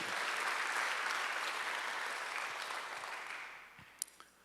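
A church congregation at Sunday worship applauds in a soft, even patter of many hands, fading gradually toward the end, where a couple of sharp knocks sound.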